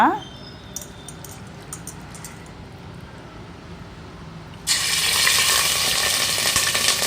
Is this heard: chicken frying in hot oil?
yes